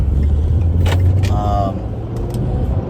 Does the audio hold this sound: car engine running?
yes